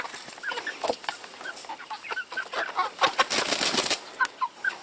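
Black Copper Marans chickens cluck and murmur close by, a busy overlapping chorus of short calls with some rustling and the odd flutter of wings.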